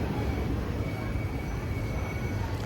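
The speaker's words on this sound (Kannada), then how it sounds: "ಅರಸೀಕೆರೆಯಿಂದ ಟ್ರೈನ್ ಹೊರಡ್ತಾ ಇದೆ ಈಗ." Passenger train pulling away from Arsikere station, a steady broad rumble of wheels and carriages with a faint high whine running through it, continuous and fairly close.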